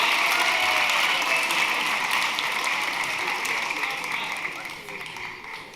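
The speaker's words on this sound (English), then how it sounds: "Let's give all of our interns one more round of applause for everything they do." Audience applause for interns at a spring school awards ceremony, a dense, steady wash of many hands clapping that fades gradually toward the end.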